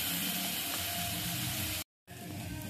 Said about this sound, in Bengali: এবার গ্যাসের আঁচটা কম রেখে এই মশলাটাকে ভালো করে কষিয়ে নিচ্ছি।